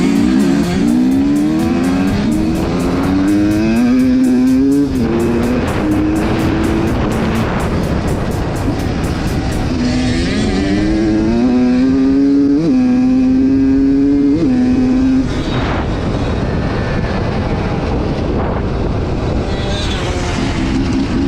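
YZ85 two-stroke dirt bike ridden with a group of 300 two-stroke motorcycles on an enduro ride day, engines loud and close, revving and rising in pitch continuously with shifting tones throughout.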